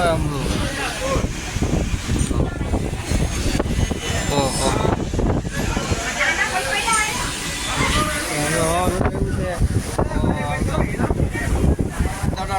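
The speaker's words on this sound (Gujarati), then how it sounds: "આટલું પવન છે જોરદાર" Strong wind buffets the microphone in constant rumbling gusts while people talk throughout.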